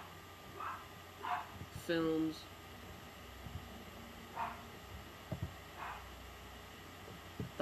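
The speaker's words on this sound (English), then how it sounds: "Sorry, dog was barking." A dog barks a few sharp times indoors, short yelps scattered between a man's speech, fairly close but not loud.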